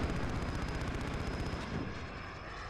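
A Harrier jet killstreak in Call of Duty: Modern Warfare roars overhead with a throbbing, pulsing engine rumble that holds loud for a moment, then thins and fades as it moves away.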